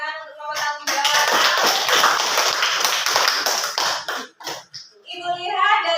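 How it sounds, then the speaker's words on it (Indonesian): A classroom of students claps for a student group after their discussion: about three seconds of lively, close applause, framed by voices before and after. "Biasa tepuk tangan untuk kelompok tanggung jawab."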